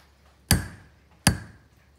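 Two sharp, bright metallic taps of a hammer mis-striking the blade of a Japanese kanna hand plane, spaced under a second apart, each ringing briefly before fading, close and alone with no talk.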